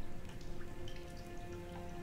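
Dripping water in The Solus Project video game, a dense patter of droplets over a low steady hum, close and continuous for a couple of seconds.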